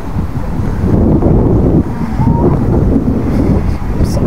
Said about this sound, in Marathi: गणेश गोळ्यातला समुद्र.